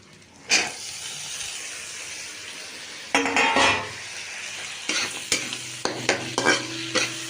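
Green peas and spices (chilli powder, ginger paste, turmeric) with a little sauce frying in a wok, with a steady close sizzle and repeated scraping stirs that grow louder and more frequent partway through.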